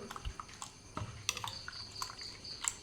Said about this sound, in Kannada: ಇವಾಗ ಮಿಕ್ಸಿ ಜಾರ್ ತೊಳೆದ ನೀರನ್ನು ಹಾಕಿ ಆಯಿತು